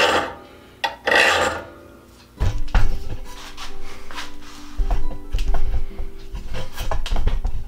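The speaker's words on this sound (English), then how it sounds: "Set that part of the file on the top of it. Hold it at the proper angle." A thread restoring file rasps back and forth over the pilot threads of an auger bit, giving close, irregular scraping strokes with a few knocks of metal in between.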